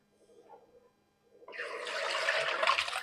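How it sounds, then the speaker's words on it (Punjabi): Soaked poha is strained: after a quiet start with faint handling, water suddenly pours and splashes through a strainer, a broad rushing flow that keeps building to the end. "ਹੁਣ ਆਪਾਂ ਇਹਨਾਂ ਨੂੰ ਲਵਾਂਗੇ ਛਾਣ"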